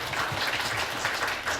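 An audience at a food and drug safety open forum applauds, a dense, even wash of clapping that runs steadily through the short stretch without a break.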